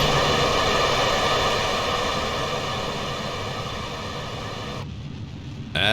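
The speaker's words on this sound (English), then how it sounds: "let's go ahead and fire the main engine now" A rocket's main engine fires in Kerbal Space Program as one loud, continuous roar that holds steady, dulls briefly near the end, then surges again.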